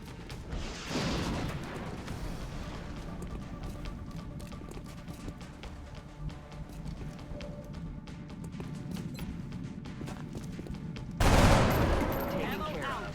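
Rockets launch in a combat video game as a dense volley of blasts and crackling bursts, with a loud, sharp salvo near the end.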